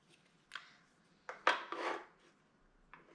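Damp bath bomb mixture is spooned into a mould in a few short scraping and tapping bursts, close and fairly quiet, with soft pauses between scoops.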